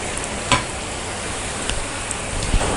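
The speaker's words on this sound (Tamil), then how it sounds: "இப்போ டீப் ஃப்ரை பண்ணி எடுத்துக்கலாம்" Maida chips deep frying in oil over a medium flame, a steady soft sizzle with a few faint pops and crackles throughout, no voices.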